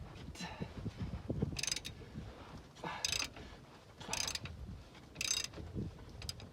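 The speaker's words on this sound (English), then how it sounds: "It's like a big old breaker bar, but it's got a ratcheting mechanism." A ratcheting breaker bar works loose a bolt on a pickup's rear shock, sounding as repeated quiet bursts of clicking pawl, evenly spaced at about one-second intervals, with faint creaks and handling noise between.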